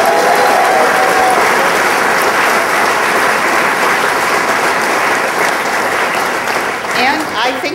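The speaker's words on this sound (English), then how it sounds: "One more round of applause for all of them." An audience applauds at a policy forum, with steady, dense clapping filling the room at close range for several seconds before it thins out near the end.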